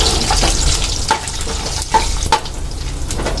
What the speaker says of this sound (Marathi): बोंबील चांगले फ्राय करून घेऊ